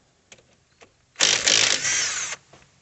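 An old Bauer 3/8-inch cordless power tool with a 14 mm socket removing a brake caliper bolt on a 2005 Pontiac Vibe: a few light clicks, then a loud, close whirring burst of just over a second that stops abruptly.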